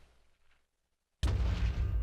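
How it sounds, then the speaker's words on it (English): A sudden loud explosion bursts in modded Minecraft as a wither is killed, a near, booming blast that follows brief quiet and holds with a rumbling roar. "We were a little bit too close for that explosion."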